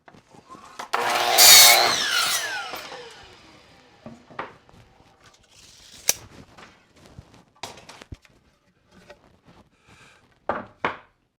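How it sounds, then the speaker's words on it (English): A hand saw or power saw cuts lumber pieces to length for a wooden picnic table, with a loud burst of sawing early on followed by scattered knocks and clatters of wood being handled. "I'm going to go ahead and cut all the other pieces to length or rough length"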